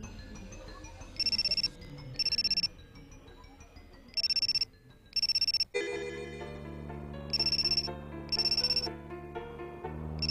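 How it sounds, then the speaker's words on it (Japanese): A mobile phone rings in short repeated electronic bursts, near and clear, with a musical score continuing between and under the rings. "その時携帯電話が鳴った"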